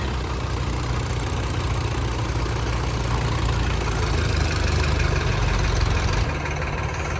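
A tractor engine runs steadily at close range during rice paddy harvest work, a dense low rumble with a thin upper rattle, continuous and loud throughout with no talk.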